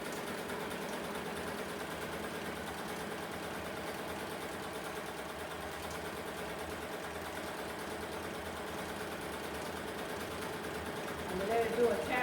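A Melco EMT 16X embroidery machine stitches an appliqué Christmas shirt design, giving a steady, continuous mechanical whir and rapid stitching hum that holds evenly throughout and swells slightly at the end.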